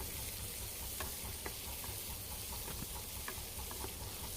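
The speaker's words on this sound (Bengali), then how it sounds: "ভালো করে মিডিয়াম ফ্লেমে সবজিগুলোকে ভেজে নিতে হবে।" Eggplant, potato, radish and carrot fry over a medium flame with a steady, even sizzle, broken by faint clicks of stirring throughout.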